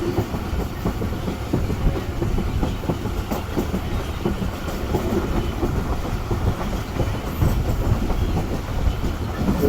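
The Rehman Baba Express passenger train runs through open country in the evening, heard from an economy-class carriage as a loud, continuous rumble with rhythmic clickety-clack of wheels on rail joints and no voices.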